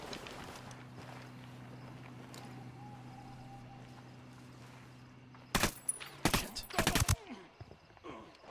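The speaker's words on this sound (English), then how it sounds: "There are the gunshots." A burst of gunshots cracks at night in Venezuela, several sharp loud reports in quick succession after a quieter stretch of low humming background.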